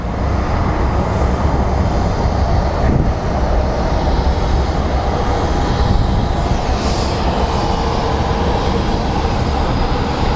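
US Airways flight 2206 to Long Beach at Phoenix Sky Harbor airport, a loud, steady broadband jet roar with a high whine, sustained without a break.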